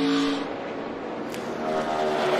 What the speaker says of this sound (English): Love listening to those cars slip and slide around.